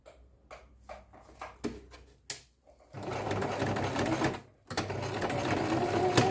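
A sewing machine stitches a short cross-shaped seam to hold the centre of fabric petals. A few brief bursts of stitching come first, then two longer steady runs of motor hum and needle clatter, close and alone.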